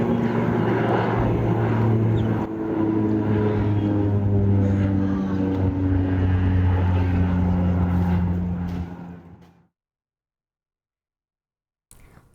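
A propeller airplane drones loudly and steadily overhead for about nine seconds in open air, with a rumbling engine tone, then fades out abruptly into silence.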